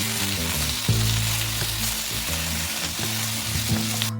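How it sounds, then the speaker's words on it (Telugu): Three roughly chopped tomatoes frying for a dhaba-style paneer curry, giving a dense continuous sizzle beneath a steady tonal hum, with no talking. "తర్వాత 3 పెద్దవిగా తరిగిన టమాటాలు వేసి 10 నిమిషాలు వేయించుకోవాలి."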